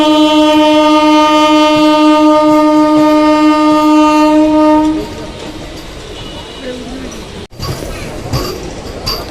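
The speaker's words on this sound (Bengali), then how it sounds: "বন্ধুরা পুরুলিয়া জংশন ঢুকছে" A train entering Purulia Junction and switching tracks, a loud sustained horn blast for about five seconds followed by rolling wheels and rattling over the points, with a sharp clunk near the end.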